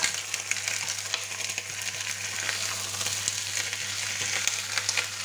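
Turkey meat sizzling and crackling steadily in a hot frying pan while being turned, with a continuous bright frying hiss dotted with sharp pops and spatters throughout, no talking.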